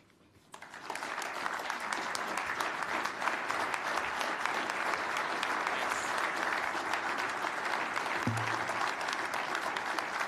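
Steady, dense applause from a large audience at the Iowa Farm Bureau greets Secretary of State Mike Pompeo, starting abruptly and holding loud and even for about ten seconds, with faint talk briefly underneath.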